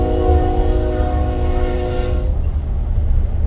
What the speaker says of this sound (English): we've got a train right beside us here